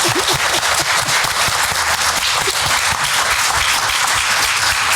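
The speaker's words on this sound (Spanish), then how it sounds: "Les damos un aplauso con todo cariño." Audience applause at a panel talk fills five seconds with dense, even clapping from a crowd, fairly loud and without a break.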